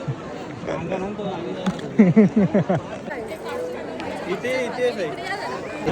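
A crowd of devotees packs Ekvira temple, with busy overlapping chatter and babble, a nearby voice speaking over it and footsteps shuffling in the background.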